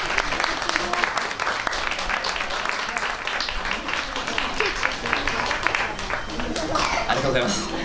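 A crowd at an outdoor monkey performance show, a traditional Japanese sarumawashi act, applauds steadily and densely throughout, with a voice speaking over the clapping.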